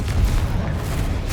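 A Confringo spell explodes in the video game Hogwarts Legacy, a single loud, deep booming blast with a rumbling tail.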